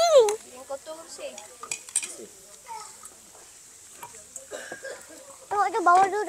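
Dirty plates and dishes clink and scrape at night in Cameron, a scatter of close ceramic and metal chinks under people chatting nearby.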